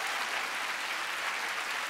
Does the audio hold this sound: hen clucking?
no